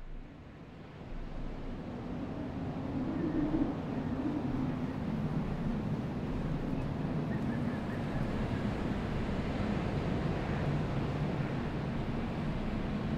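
A wind storm sweeps across the scene in FAR: Changing Tides, a steady, broad rushing roar that swells in the first seconds and then holds at an even level throughout.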